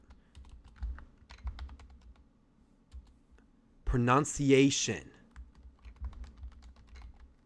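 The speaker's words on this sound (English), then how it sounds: "I'm going to type it." Typing on a computer keyboard: faint, scattered light key clicks spread through the clip, broken up by a short burst of speech in the middle.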